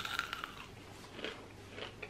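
Someone bites into a crunchy breaded air-fried pickle, a few quiet crisp crunches and chewing sounds close up, with no talking.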